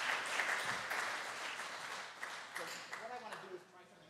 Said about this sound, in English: I would love you to give him a round of applause